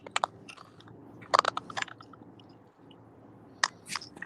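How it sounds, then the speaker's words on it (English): Crackling, crunching creaks of flexing plastic interior paneling inside a car come through a live stream call in a few short, uneven bursts, fairly close and moderately loud, with no talking. "What is that crunching sound?"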